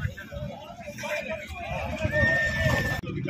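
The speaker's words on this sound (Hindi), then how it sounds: "सारे घोड़े बड़े जोश में हैं।" Horses neigh and hooves shuffle at a busy horse fair in Hanumangarh, with a crowd babbling around them and someone talking close by.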